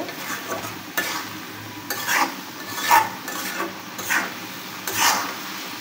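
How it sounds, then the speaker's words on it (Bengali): Carrot halwa being stirred in a pan over the heat to dry off its liquid: repeated scraping, rubbing strokes about once a second with a faint sizzle beneath, close and moderately loud, no talking. "আমি আর কিছুক্ষণ জাল দিয়ে এভাবে নেড়ে চেড়ে রসটা শুকিয়ে নেব।"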